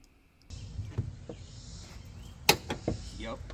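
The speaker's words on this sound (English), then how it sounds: "the fuel filler door actually works properly" Car fuel filler door on a well-worn car being worked on, a few short close mechanical clicks and a sharp snap as it opens and shuts, against a quiet room background.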